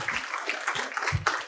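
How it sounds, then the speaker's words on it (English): Audience applause breaks out during a public speech, a steady wash of clapping from a crowd that fills the short moment at moderate loudness. "So first of all, a round of applause for"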